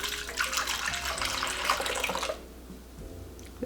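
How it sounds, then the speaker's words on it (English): Water pours into a container on a kitchen scale while bread dough is being measured, a steady splashing trickle that stops partway through and leaves a quiet room. "I'm gonna zero out the scale again and get 300 grams of water"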